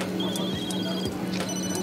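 Several telephones ringing in Food Truck Simulator, short electronic ring bursts over a busy game backdrop with clicking and a voice talking.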